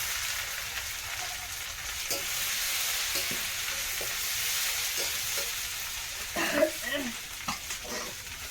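A water lily curry mixture being stir-fried in a pan: a continuous soft sizzle with intermittent scraping and knocking of the spatula, growing busier near the end, with no talk.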